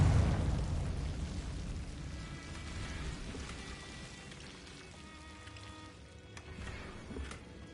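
Confringo explosion spell in Hogwarts Legacy, a booming blast that hits at the start, then a long rumbling decay with crackling debris and a few sharper magical accents near the end.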